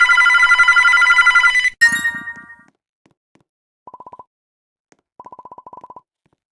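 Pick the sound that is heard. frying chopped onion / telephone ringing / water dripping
telephone ringing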